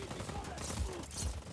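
A short burst of rapid gunfire in the video game Just Cause 4, with quick, fairly faint shots overlapping one another and a voice speaking in the mix.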